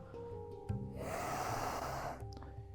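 One long, deep breath is drawn in during a hatha yoga side-stretch, a soft airy rush lasting about a second, close and quiet, set against a faint background hum.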